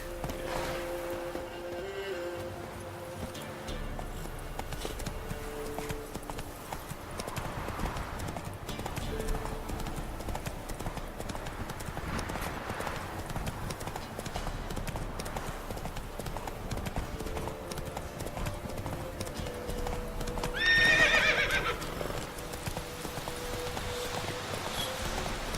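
Roach, the horse in the video game The Witcher 3, trots with steady close clip-clop hoofbeats throughout, with a short whinny rising near the end.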